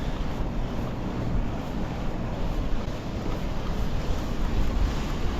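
Surf breaking on the beach at Belhaven, a steady loud roar of waves heard close by, mixed with wind buffeting the microphone, with no voices.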